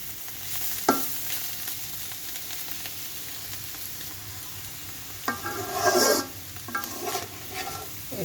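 A utensil stirs a carrot and potato stir-fry in a wok, with a low background sizzle and a few louder scraping strokes near the end, close by and without talking.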